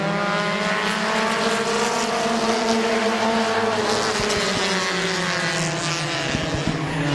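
Compact race cars roar around Midvale Speedway in a heat race, several engines droning and whining together at high revs, rising and falling in pitch as the pack passes, steady and loud for the whole stretch.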